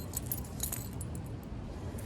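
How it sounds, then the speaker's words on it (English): A set of keys on a Vans keychain is set down before a workout, giving a few light metallic jingles and clicks over a steady background hiss. "I'm going to put my keys over here."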